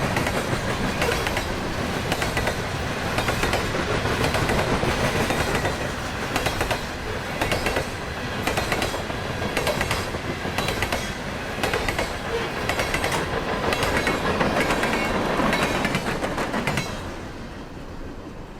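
CSX freight train Q368 rolls past on the Garrett Subdivision in northwest Indiana, a loud continuous rumble with rhythmic clickety-clack of wheels over rail joints, steady throughout before easing at the end.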